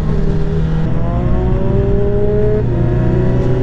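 Motorcycle engine revving loudly and steadily as the bike is ridden, its droning pitch climbing and shifting through the throttle changes, with no talking.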